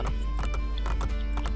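Horse hooves clip-clop in a quick, even rhythm in the game Assassin's Creed Brotherhood, several animals close and loud over a constant low rumble, with a brief whinny-like tone mixed in.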